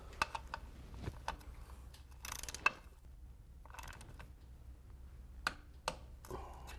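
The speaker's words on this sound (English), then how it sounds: "With the new O-ring on, I will install the drain plug." A wrench tightens an oil drain plug fitted with a new O-ring during an oil change, giving faint, sparse ratcheting clicks and small metallic handling noises in a quiet room.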